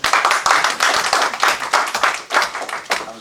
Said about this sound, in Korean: 박수 칠까요? 한번 쳐주시겠습니까?